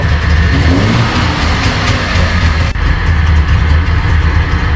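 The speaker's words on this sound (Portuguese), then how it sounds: "Inconfundível esse ronco, né, seu Rui?" Three-cylinder DKV engine of a 1967 Puma GT revving with a rough, throbbing two-stroke tone, loud and close, rising and falling in sustained bursts.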